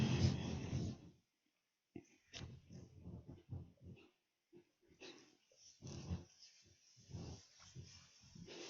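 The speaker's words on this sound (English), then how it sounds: "I'm going to go attend to my dog who's being a pill." A pet dog growling and snorting indoors, with low rumbling bursts and short snuffling breaths coming in uneven clusters and pauses, fairly close and moderately loud.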